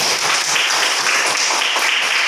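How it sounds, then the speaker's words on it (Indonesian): Classroom applause for a pupil, a dense run of many small hands clapping close by, steady and fairly loud throughout without talk over it. "tepuk tangan untuk Afin"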